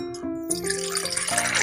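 Water pours into a bowl for panakam, the jaggery drink, in a brief continuous stream with a ringing, shifting tone close by.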